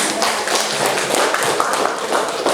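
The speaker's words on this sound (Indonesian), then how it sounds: "Tepuk tangan untuk kita semua." Applause from a group at a school training session, steady dense clapping from many hands, loud and close, continuing without pause.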